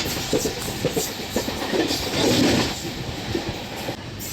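Passenger express train running on rails into Bhimavaram Junction platform 2: continuous close rumble with rhythmic clickety-clack of wheels over rail joints and faint squeal, no talk.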